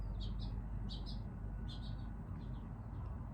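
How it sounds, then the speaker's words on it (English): Small birds chirp in quick bursts of high tweets, a few clusters spaced across the clip, faint over a constant low background hum. "The freaking birds, man."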